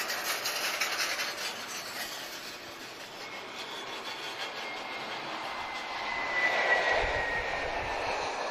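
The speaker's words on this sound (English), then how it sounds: "we want the engines, we want to hear the planes" Aircraft engines roar steadily at Lisbon Airport, a broad continuous rumble with a whine, swelling louder near the end as a jet seems to pass close by, with no voices.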